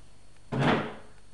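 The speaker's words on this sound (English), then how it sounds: "There's your back door, there, to the back garden." A back door in a new-build show home is heard once, a single short thud of opening or closing in a quiet room.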